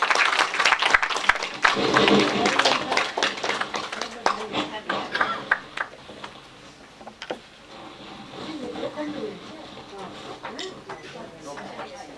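An audience claps at a book launch ceremony. Brisk, scattered applause fills the first several seconds and then thins out, while a voice speaks over and after it.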